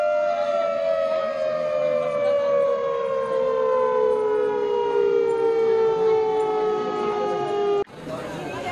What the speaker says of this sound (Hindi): तो उस टाइम पे एक सायरन सुनाई देता है।